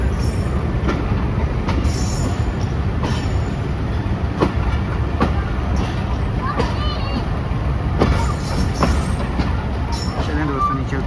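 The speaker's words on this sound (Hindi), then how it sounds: "वो दोस्तों सामने PH 28316 लोकोमोटिव मौजूद है।" A Pakistan Express passenger train with its locomotive rolls along loudly and continuously, with rhythmic clickety-clack of wheels on rail joints and occasional squealing wheels, heard close up over steady rumble.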